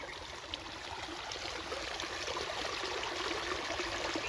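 Water trickles out from under a tree at a farm orchard in Gujarat, a soft, continuous babbling flow that swells slightly louder over a few seconds.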